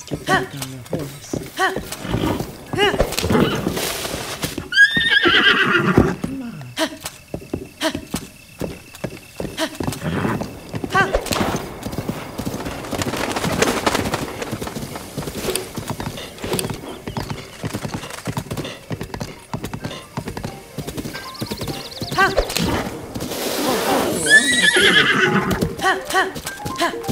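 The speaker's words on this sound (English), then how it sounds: "let's get back on the horse." A horse in Zelda: Breath of the Wild trots with rhythmic clip-clop hoofbeats and lets out sharp whinnying neighs several times, close and loud, alongside a talking voice.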